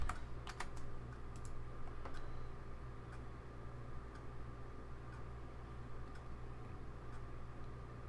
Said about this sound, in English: we're going to type in Sherpay.